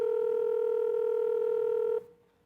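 A default telephone ringback tone sounds as a steady, clear electronic tone, held for about two seconds before cutting off.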